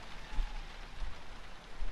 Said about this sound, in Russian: Слышно, как дождик за окном поливает.